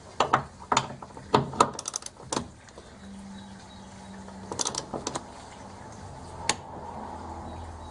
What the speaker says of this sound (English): Once you hear the click, you know it's torqued properly.